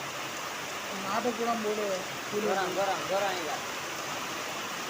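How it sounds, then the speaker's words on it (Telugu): Heavy rain pours over a village with flooded fields beside a pond, a constant broadband hiss running throughout while people talk over it. "కానీ ఇక వాన మొదలైంది"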